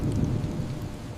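Heavy rain pours steadily beneath a deep, rolling rumble of thunder that stays low and continuous throughout.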